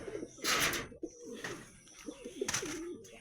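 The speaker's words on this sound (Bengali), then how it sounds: "এখানে সব ফিমেল পায়রাগুলো রয়েছে, এবার দেখাই মেল পায়রাগুলোকে।" Pigeons coo close by inside a loft, soft rolling burbles repeating over a few seconds, with a couple of sharper rustling bursts of movement between calls.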